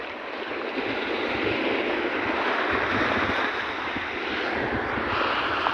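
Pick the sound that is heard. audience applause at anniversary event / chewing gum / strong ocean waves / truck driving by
strong ocean waves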